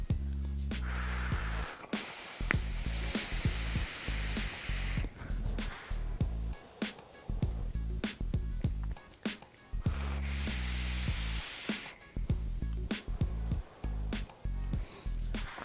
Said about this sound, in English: I'll go ahead, take a couple pulls, show you some vapor production